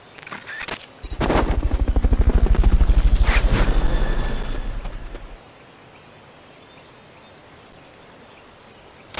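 A helicopter in the video game Metal Gear Solid Peace Walker rises with a loud, steady rotor chop for several seconds, then fades off, leaving a quiet ambient bed.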